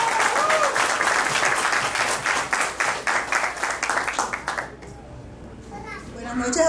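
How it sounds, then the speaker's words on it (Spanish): Guests at a Mexican quinceañera party burst into loud, dense applause that carries on steadily for about five seconds, then drops away, leaving quiet room sound and faint voices. "¡Fuerte los aplausos!"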